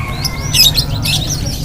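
Several small birds chirp and tweet in quick overlapping bursts over a steady low hum, a busy cluster of caged songbirds close by at a bird market in Palembang.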